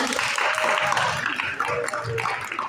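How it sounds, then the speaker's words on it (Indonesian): Classmates at a scout lesson in a classroom give a short burst of clapping, a fairly close, busy patter lasting a couple of seconds with some voices mixed in. "tepuk tangan untuk kawan-kawannya"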